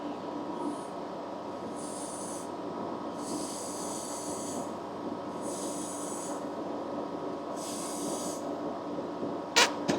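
Water from a garden hose runs through a carburetor float valve, giving a soft hiss that surges in short repeated bursts over a faint steady hum, closing with a brief sharp clatter.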